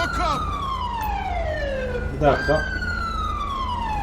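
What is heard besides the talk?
police car siren in the video game GTA 5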